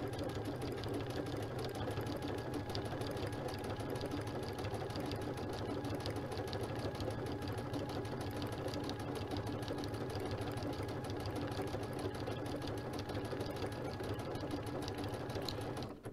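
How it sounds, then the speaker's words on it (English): A sewing machine fitted with a circular sewing attachment runs without a break, its steady, even stitching hum continuous and moderately quiet. "using the circular sewing attachment is not difficult"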